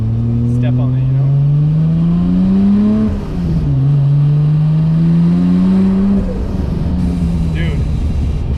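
Nissan R34 GTR fitted with titanium intakes, pulling hard at wide open throttle: two loud, close engine pulls, each climbing steadily in pitch for about three seconds before a brief dip between them.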